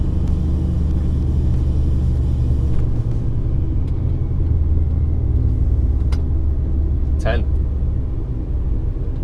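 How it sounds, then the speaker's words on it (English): An HGV truck carrying a load of around 8 to 9 tonnes rumbles along with a deep, steady engine drone, close and continuous, with a brief higher squeak near the end. "We can stick my truck up on that weight bridge, how much it weighs."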